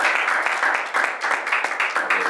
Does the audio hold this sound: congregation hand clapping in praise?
yes